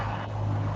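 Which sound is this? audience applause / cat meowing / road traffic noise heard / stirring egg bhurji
road traffic noise heard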